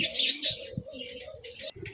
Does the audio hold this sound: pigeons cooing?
yes